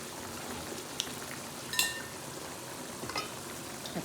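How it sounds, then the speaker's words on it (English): Pasta sauce with taccole beans simmers gently in an uncovered pan, a steady close bubbling sizzle with a few brief clinks and spits rising over it, and no talk. "The sauce is cooking gently"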